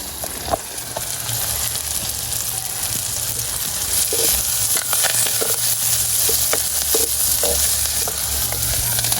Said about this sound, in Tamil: இப்படி வதக்கினா மீன் குழம்புக்கு டேஸ்ட்டு கூட